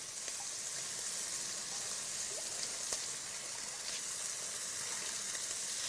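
Meat browning in a frying pan for Lancashire hotpot gives a steady, even hiss and sizzle that runs unbroken throughout, with no voices.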